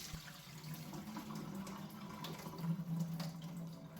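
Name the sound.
swirling and draining water from mason jars of sprouts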